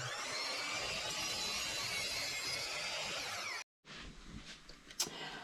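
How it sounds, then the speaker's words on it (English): A miter saw cuts wood in a shop, a loud, steady whine lasting several seconds that cuts off abruptly, followed by quieter handling sounds and a brief sharp clack. "Now, over to the miter saw."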